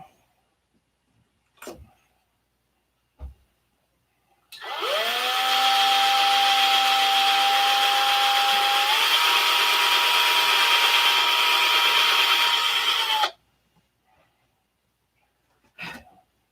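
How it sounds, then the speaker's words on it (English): A power drill bores a hole for flap clips, its motor whining loud and steady for about nine seconds with a slight pitch step midway, framed by silence and a few isolated knocks before and after. "Keep drilling."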